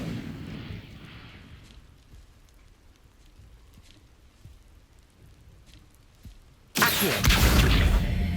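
A fire spell bursts in the Hogwarts Legacy video game: a quiet, rain-like ambience holds for several seconds before a sudden loud, roaring blast erupts near the end and sustains to the close.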